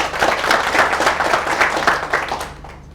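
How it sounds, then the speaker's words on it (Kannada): An audience at a talk on problem solving bursts into applause, a dense wash of many hands clapping, loud and close, holding steady before tapering off near the end. "ಚಪ್ಪಾಳೆ ಹೊಡೆದ್ಬಿಡಿ ಅವ್ರಿಗೆ."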